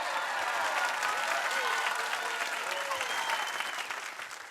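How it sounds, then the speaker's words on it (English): Audience applause rings out for a troupe of show players at a live variety show, a dense, steady wash of clapping that holds strong, then begins to taper off near the end, with a faint voice heard briefly within it. "Let's give a big round of applause"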